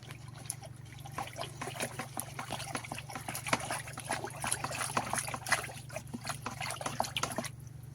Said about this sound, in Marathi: त्याच्यामध्ये आपण काठीच्या सहाय्याने लोणार आहे